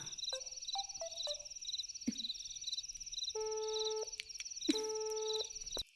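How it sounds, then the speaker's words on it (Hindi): A telephone call fails to connect, with repeated beeping tones over a line hum, then a couple of longer steady tones near the end, fairly close and with no talking. "अरे उसका फोन तो लग ही नहीं रहा है।"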